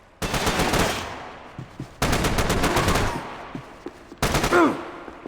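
Bursts of automatic gunfire in Max Payne 3, three loud sustained volleys separated by short pauses, with scattered single shots between them and no talking.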